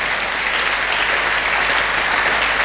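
A church congregation claps and cheers for the Lord in a dense, loud, continuous burst of applause that fills the room without pause.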